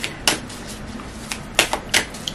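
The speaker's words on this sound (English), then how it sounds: "Let's shuffle the deck." A deck of tarot cards is shuffled, giving a few sharp, separate riffling snaps and card taps at irregular intervals, fairly close and with no talking.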